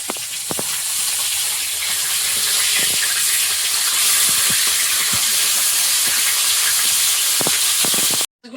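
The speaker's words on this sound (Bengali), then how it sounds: "মাছ ভাজাও চলছে" Fish frying in hot oil for a home Sundarban-style Bengali meal, a steady loud sizzle that holds throughout with a few faint clinks, no talk, cutting off sharply at the end.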